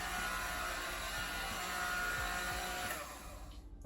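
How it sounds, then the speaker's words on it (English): Immersion blender whirring steadily as it purées wet beans with dry powders for a nut-free peanut butter substitute, a continuous loud motor drone that cuts off near the end. "So I just decided to get some help from my whisking stick."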